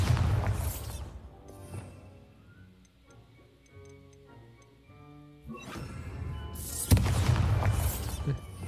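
A Bombarda blasting spell in Hogwarts Legacy sets off loud, booming blasts at the start and near the end, with a quiet ticking stretch and game music between them.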